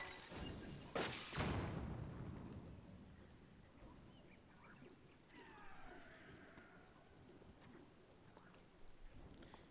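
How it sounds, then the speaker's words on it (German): Steady in-game rain falls in Zelda: Tears of the Kingdom, a soft continuous patter with a heavier crackling burst near the start, while someone speaks faintly. "Ah, scheiß Regen, oder?"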